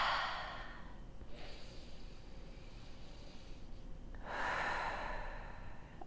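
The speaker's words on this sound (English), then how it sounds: "let's just take a moment and take a deep breath" A slow, deep breath in a quiet room, a soft airy inhale near the start and a longer exhale a few seconds later, close to the listener with a faint low hum underneath and no talking.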